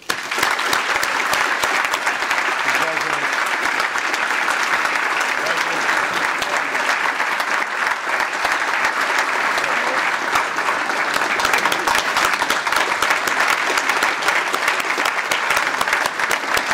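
Long, steady round of applause from a seated audience at a police awards luncheon honoring recipients, dense continuous clapping with faint crowd murmur underneath.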